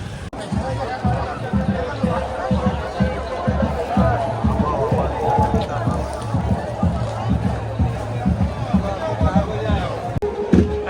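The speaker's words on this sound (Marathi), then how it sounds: "खूप गर्दी आहे, खूप क्राऊड." A dense crowd of pilgrims mills around the Ekvira temple during the palkhi procession, with continuous chatter and shuffling footsteps. A nearby voice speaks over the crowd.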